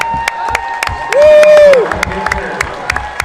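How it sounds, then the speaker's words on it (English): An audience at a basketball game event claps and cheers for an honored educator, sharp scattered claps with a loud whistle-like whoop rising over the crowd. "We're going to ask Miss Linda Delbo to come out here and take applause."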